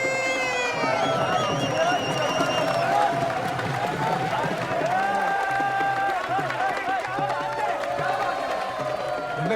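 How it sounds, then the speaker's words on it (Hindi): Crowd applause and cheering at a stage show as a performer walks on, steady clapping filling the room under an announcer's voice and background music. "जोरदार तालियों से स्वागत कीजिए, स्टेज पर आ रहे हैं चंदन जी।"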